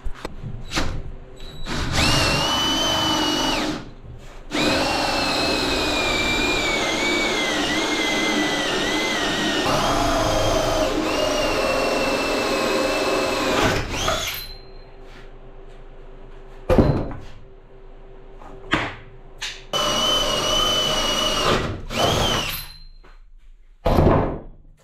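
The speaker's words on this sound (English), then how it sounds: "So we'll drill some holes." A power drill bores holes in reclaimed wood for a miniature wooden water tower, a loud whirring drone running for long stretches, then stopping, followed by a few short knocks and another sustained burst.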